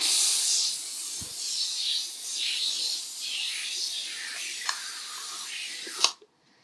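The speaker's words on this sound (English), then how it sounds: "I'm going to give it a spray here and we'll see what we get." A hand pump sprayer puts out thick foam in a continuous hissing spray with wavering intensity, a couple of small clicks, then the spray cuts off abruptly near the end.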